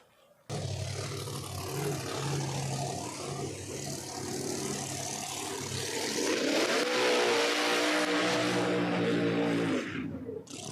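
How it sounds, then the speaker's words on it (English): A No Prep Kings drag racing car at Empire Dragway does a burnout, its engine roaring loud and steady under heavy tire noise, then revving up in rising pitch before cutting off abruptly near the end. "Doc Love with his burnout there"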